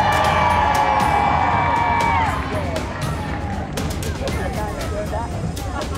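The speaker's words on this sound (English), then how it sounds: "Let's hear a cheer!" A festival crowd cheering and whooping loudly at first, then settling into excited hubbub and scattered shouts, with children's voices among the noise.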